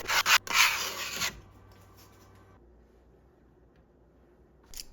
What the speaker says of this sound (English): I just need to separate these brims from there, peeling them off and making sure that there are no remnants of it